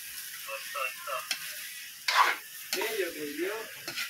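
A spoon stirs shrimp cooked with coconut pulp in Maranao style, with a soft sizzle, scrapes and one sharper clatter, while faint voices murmur in the background.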